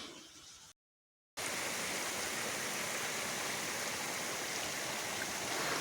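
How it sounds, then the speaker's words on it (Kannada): Water from a waterfall flows down into a village stream near Neer-Arbi, giving a steady, full rushing roar. A brief hiss is cut off by a short silent gap before the flow continues unbroken. "ಮೇಲಿಂದ ಬರುವಂಥ ಜರಿ ನೀರು ಹರಿದು ಹಳ್ಳವಾಗಿ ಹೋಗ್ತಾ ಉಂಟು"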